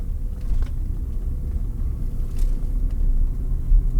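Vintage Rolls-Royce car pulling onto a dual carriageway, heard from inside: a steady, loud low engine and road rumble, continuous and even with slight swells, no talk.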